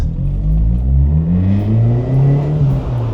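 A 1990s Suzuki Swift GTi revving hard, its engine note climbing and falling in a loud, continuous sweep close to the listener, with no talking.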